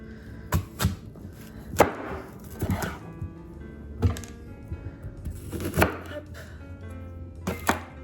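A knife chops an apple on a cutting board in a home kitchen, giving sharp irregular thunks spaced a second or so apart, close and fairly loud, with a faint scraping hum between strikes.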